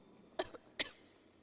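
A character in the video game Afterimage coughs twice, two short close bursts roughly half a second apart, against a faint background hum with no other voices.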